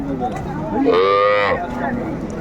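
Cows and calves at a rural cattle market in Dinajpur, one clear moo rising above the crowd for about half a second, with people talking and bargaining close by throughout.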